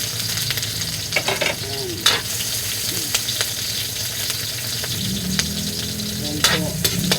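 Garlic and onion frying in a pan give a loud, steady sizzle with scraping stir strokes and occasional clinks of a utensil against the pan, and a brief word is spoken partway through.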